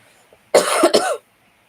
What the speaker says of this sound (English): I still have a little bit of a cough left, so I apologize if I cough on the live again.